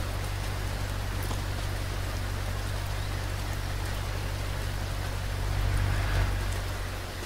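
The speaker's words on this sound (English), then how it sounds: "Now the sound of the rain will travel with us wherever we go." Steady, even hiss of rainfall in the BeamNG Drive video game with a constant low hum underneath, continuous and moderately loud throughout.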